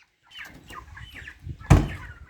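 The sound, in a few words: broiler chickens clucking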